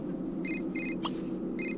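A phone ringing in The Sims 3, repeated electronic ring bursts at a steady rhythm with a short click between them, moderately loud over a low background hum.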